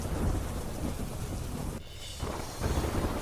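Heavy monsoon rain pours down at the Saputara hill station in a dense, steady roar with a brief dip in intensity before it surges back, no voices.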